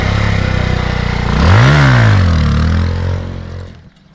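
A motorcycle doing a leg drag wheelie stunt revs up close and loud, its engine pitch climbing and falling in one surge before the throttle drops away near the end.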